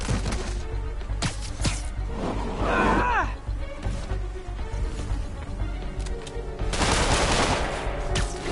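Enemy gunfire in a Spider-Man video game, with rapid bursts and volleys of shots crackling across the scene, mixed with swishing movement and in-game voices.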